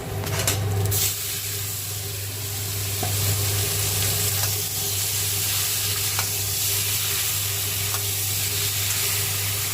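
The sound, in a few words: marinated chicken sizzling as it is added to fried onions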